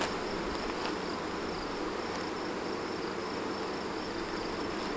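A thick, unbroken hum of many bees swarming around a swarm trap, steady and close for several seconds, with no voices.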